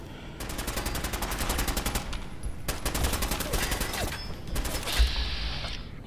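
Fallout 4 gunfire: rapid automatic bursts crackle in several sharp volleys with short pauses and mechanical clicks between them, moderately loud and close.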